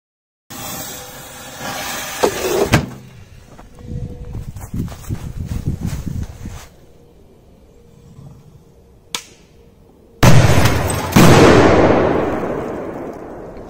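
A powerful Corsair 16 firecracker and a second firecracker set off inside an oven: crackling and rattling bursts, a sharp pop, then two loud close explosions in quick succession near the end.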